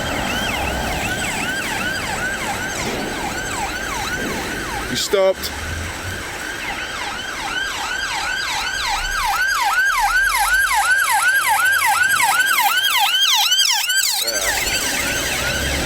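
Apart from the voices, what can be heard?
ambulance siren passing at roundabout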